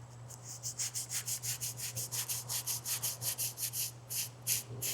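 Rapid, even back-and-forth strokes of 80 grit sandpaper over filler on a cracked Chevy Caprice dashboard, a rhythmic rasping sweep repeated about four times a second over a low steady hum.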